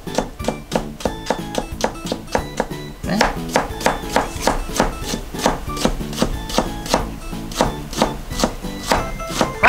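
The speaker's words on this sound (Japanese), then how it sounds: "こうやって千切りにしていくんですね" Steady, rapid knife chops julienning daikon radish on a cutting board, crisp repeated taps in an even rhythm, close and clear, with no talking over them.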